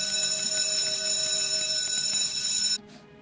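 An electric school bell rings loudly and steadily for almost three seconds, a harsh metallic clanging tone that cuts off abruptly, with no talk.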